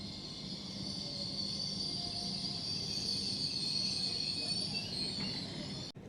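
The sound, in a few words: Hull Trains service train arriving at Retford station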